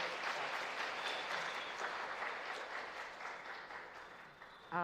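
Warm applause from a church congregation welcoming a guest speaker at a Sunday worship service, steady broadband clapping filling the whole stretch and ending abruptly.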